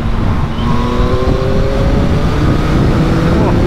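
A 2022 Yamaha MT09 motorcycle engine pulling hard in second gear at about 30 mph, rising toward high revs. A loud, steady, droning whine sits under heavy wind noise, with the pitch climbing gradually.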